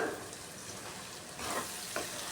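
Mushroom egg fried rice being stirred in a pan as hot cooked rice is tossed in, with a soft continuous sizzle and a couple of quick stirring scrapes, faint and close.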